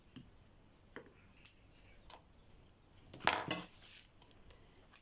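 Scissors cut embroidery thread: a few quiet clicks, then one sharper snip, all soft and close in a still room.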